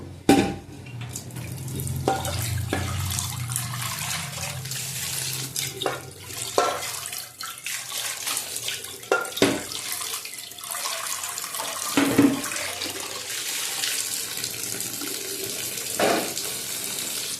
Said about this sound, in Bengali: এটা ভালো করে ঠান্ডা জল দিয়ে ধুয়ে নেবো।